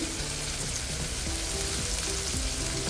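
Chopped ginger, garlic and chilli sauté in butter, giving a steady, dense sizzle that holds at an even level throughout with no talking.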